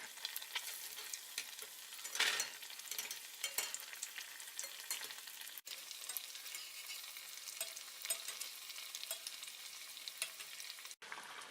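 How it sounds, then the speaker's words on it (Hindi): Green chickpea pakoras fry in hot oil with a constant, faint crackling sizzle that runs unbroken and evenly throughout, with no voices. "पकौड़ों को तेल में डाले हुए 1 मिनट से ज़्यादा हो चुका है और अब ये तेल में तैर रहे हैं"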